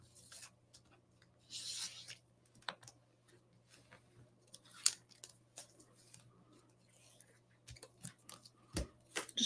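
Tape peeling off a handmade magic card in a quiet crafting setting, heard as scattered soft tearing rasps and crisp clicks over a steady low hum, fairly close and quiet, with no talking.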